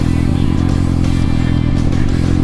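Motorcycle ridden aggressively off-road through soft, sinking ground like a dirt bike, a loud, close, continuous engine roar with clattering over the full short stretch.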